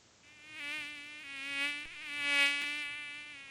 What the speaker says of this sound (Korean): 불을 끄고 잠을 청하려는 순간 얼굴 주위에서 거리는 모기 때문에 짜증났던 경험 있으시죠?